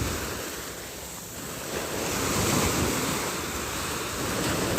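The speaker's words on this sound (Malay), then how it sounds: "sebab ombak kuat ni" Strong surf rolling onto a beach at Pantai Rurenggeh, a continuous broad roar of breaking waves swelling louder midway, with wind buffeting the microphone and no voices.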